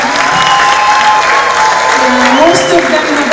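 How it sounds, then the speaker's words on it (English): Audience applause fills a graduation ceremony hall in Dubai, a steady, loud wash of clapping from a large crowd with some cheering mixed in and a voice speaking over it. "Please give them a round of applause."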